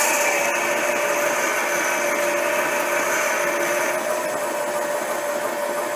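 A mini lathe drills at about 600 to 800 RPM, producing a continuous, loud, steady whir and grind that stays even from start to finish.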